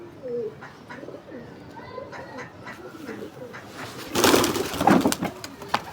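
Pigeons coo in soft murmuring calls with a flurry of louder flapping or movement partway through, close by, mixed with faint background noise.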